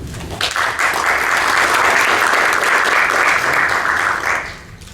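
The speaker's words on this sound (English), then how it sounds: "Rounds of applause, please." A conference audience at an Android app security talk gives a round of applause, a loud burst of many hands clapping that holds steady for about four seconds before fading.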